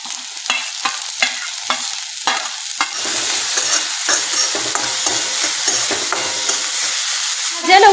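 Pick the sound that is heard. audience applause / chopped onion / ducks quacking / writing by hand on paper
chopped onion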